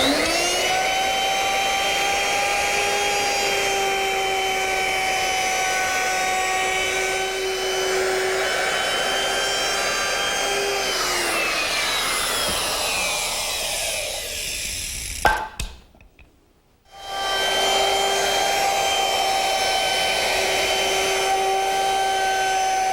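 A handheld wood router rounds over the edge of two wood pieces clamped together, whining steadily at high pitch, then dipping and winding down before a brief silence and a restart.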